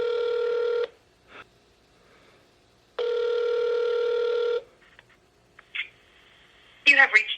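Two long, even electronic ringing tones of an outgoing phone call sound close and clear, separated by a pause, with faint clicks between them and a short burst of speech at the end.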